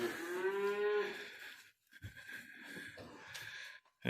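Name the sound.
cattle mooing in a feeder barn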